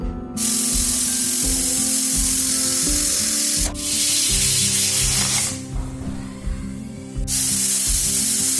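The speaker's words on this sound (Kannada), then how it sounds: "ನೋಡ್ರಿ ಕುಕ್ಕರ್ದು 3 ವಿಸಿಲ್" A pressure cooker on a gas stove cooking rice lets off loud steam whistles, long hissing bursts broken by short gaps, close and dominant.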